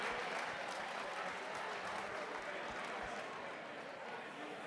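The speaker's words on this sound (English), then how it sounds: "Let's give them a round of applause." Audience at a school auction applauding after a sale, a continuous soft wash of clapping heard from a distance, steady and fairly faint, gradually easing off.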